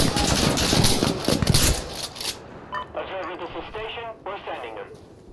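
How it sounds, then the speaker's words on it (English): Autocannon strafing run in the video game Insurgency Sandstorm: a loud, dense burst of rapid cannon fire and impacts for about two seconds, then quieter scattered bursts and radio-like chatter in the background. "Oh dear, auto cannon strafe."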